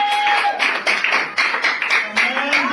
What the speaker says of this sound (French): Vous acclamez pour vous-même.